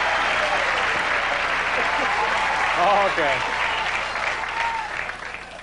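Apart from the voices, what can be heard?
audience applause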